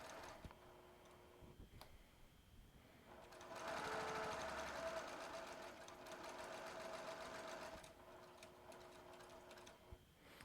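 A domestic sewing machine stitching a fabric seam, running in a steady whirring burst from about a third of the way in, with quieter ticking and handling before and after.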